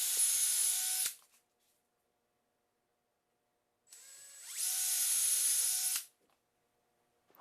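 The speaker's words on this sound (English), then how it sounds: "now I'm going to pre-drill through the front" A power drill pre-drills through a wooden drawer front for pulls, two whining bursts of about a second and two seconds separated by silence, close and fairly loud.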